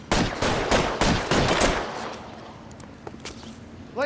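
Covering gunfire crackles in L.A. Noire, a rapid cluster of loud shots in the first two seconds, then scattered fainter pops over a quieter tail.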